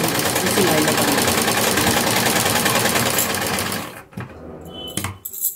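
A sewing machine stitches a curved seam to close a pant pocket, running fast and continuous for several seconds before stopping. Someone speaks over it, and a few handling clicks follow.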